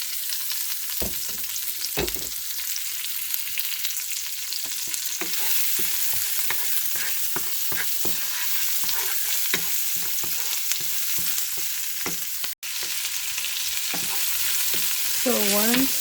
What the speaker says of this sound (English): So using the same pan, I'm going to saute.